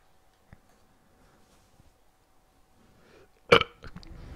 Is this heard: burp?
yes